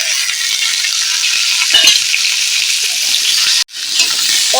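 Beans, potato and eggplant hit hot mustard oil and fry with a loud, steady sizzle and crackle, with a few stirring clatters and a brief break near the end.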